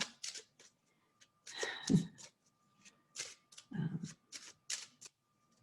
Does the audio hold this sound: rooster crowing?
no